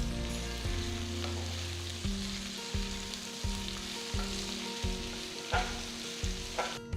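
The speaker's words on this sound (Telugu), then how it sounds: "పొడవుగా తరిగిన 5 ఉల్లిపాయలు వేసి ఒక్కసారి మొత్తం కలపాలి" Long-sliced onions and spices fry and get stirred in a pan, with a constant close sizzle broken by regular thumps and scrapes of a spoon, about one stroke a second.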